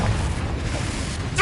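Confringo blasting spell from Hogwarts Legacy, a deep booming blast that rumbles steadily through the whole moment and swells again near the end, loud and close.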